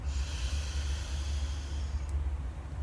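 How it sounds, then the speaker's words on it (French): A slow, steady inhalation during a relaxation breathing exercise, a soft continuous airy hiss close to the microphone over a low background rumble. "J'inspire."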